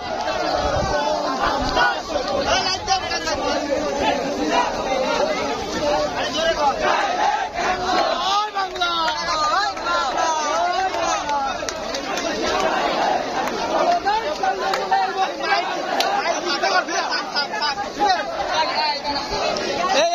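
A large crowd at a Gopalganj rally chants slogans in unison, loud and continuous, with rhythmic call-and-response shouting and excited chatter from many voices close around.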